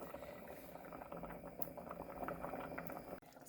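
Jamaican stew peas with pig's tail bubbling in a covered pot, a steady close simmer of dense popping and gurgling throughout, with a faint knock near the end.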